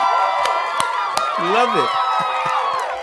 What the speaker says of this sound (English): Let's throw a round of applause to him